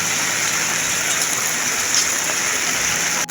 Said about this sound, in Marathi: पाऊस पण चांगला चालू झाला आहे